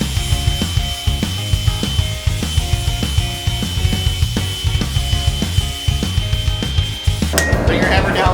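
A hammer tapping hot Damascus steel during forging, a steady run of ringing metallic strikes near and loud in a regular rhythm, with a louder clank near the end.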